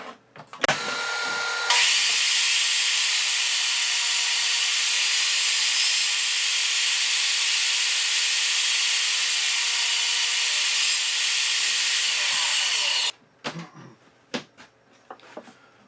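A power saw rips thin strips, about an eighth of an inch, from mesquite wood for a pen box inlay, a loud continuous whine held for roughly eleven seconds, then winding down into scattered knocks and handling clatter.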